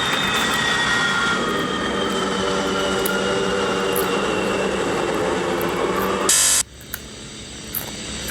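Steady, loud roar of a B-70 aircraft's jet engines with a high whine riding over it, continuing evenly before cutting off abruptly near the end.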